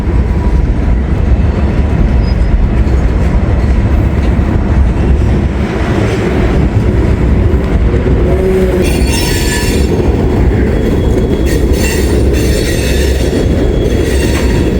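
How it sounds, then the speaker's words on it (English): A long manifest freight train rolls past on double track, its wheels and cars rumbling steadily and loud throughout, with squealing wheel noise and clanking from the railcars rising partway through. "It's a huge manifest. It's all double track down there"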